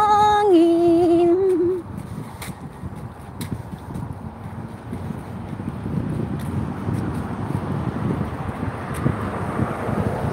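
Steady wind rushing past the microphone, a broad continuous roar after a brief tonal hum fades out at the start.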